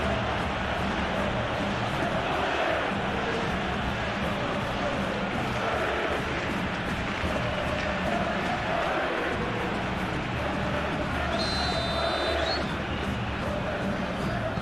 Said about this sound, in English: it certainly got the crowd going